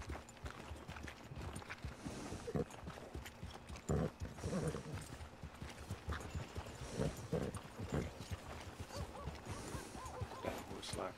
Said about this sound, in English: look at that horse circle